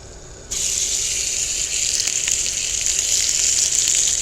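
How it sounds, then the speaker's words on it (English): Hamburger steak landing on a hot cast iron griddle over a Coleman camp stove, starting with a sudden loud sizzle that settles into a steady, crackling fry close by. "I'm going to put a hamburger steak on."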